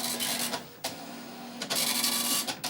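An Amstrad PCW 8256 dot matrix printer screeches loudly line after line, harsh buzzing bursts separated by brief pauses as the head returns, close up.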